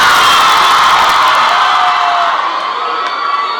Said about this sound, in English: Only the girls scream for him.